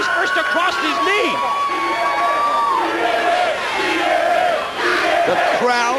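A wrestling arena crowd at a three-way X-Division championship match roars and cheers loudly and continuously, with shouts and whoops rising over a dense wall of noise and a commentator's voice running underneath.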